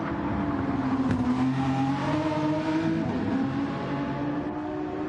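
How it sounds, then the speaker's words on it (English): An Aston Martin V12 Vantage race car in Gran Turismo Sport, a Gr-3 endurance race, gives a steady droning engine note at sustained high revs, holding a continuous tone throughout with slight pitch shifts and no talk. "He goes hurtling through the wonderful V12 Vantage"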